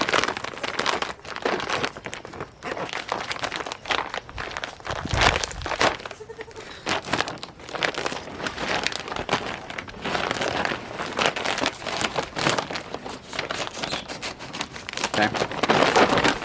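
Empty feed bag crinkling and rustling steadily while being handled and cut open at the bottom with a blade, a dense, continuous papery crackle close by, with someone talking at points in between.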